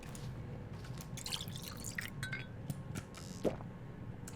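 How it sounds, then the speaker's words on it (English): In Pathologic 2, water is sipped in a quiet scene with soft drips and small liquid clinks over a low background hum, then a brief gulp near the end. "Let's have a sip of water"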